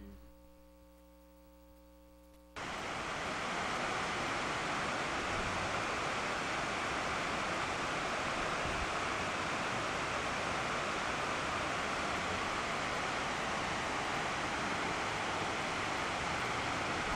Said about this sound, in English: I'm going to give you a very brief video of that waterfall